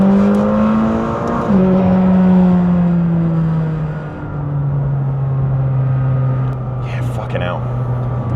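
McLaren 600LT engine revving hard inside a tunnel on a racetrack, a loud sustained roar that climbs, drops sharply around a shift and holds a steady drone, with a brief crackle near the end.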